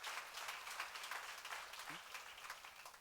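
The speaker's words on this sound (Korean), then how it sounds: "박수로 맞아주세요." A church audience claps in welcome during a Korean Psalms teaching session, a faint, distant patter of many hands that gently rises and falls throughout.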